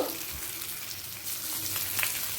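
Nigella seeds hit hot oil in a pan while a silver carp fish dish is cooked, giving a steady close hissing sizzle with faint crackles and no talking.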